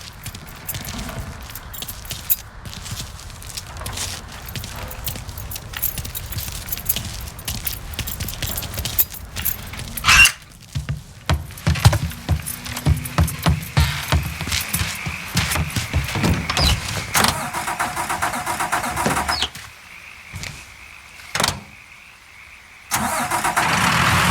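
In Mafia III, keys jingle and clink over a low idle. A car engine then cranks and catches, and it settles into a close, rumbling run with uneven revving.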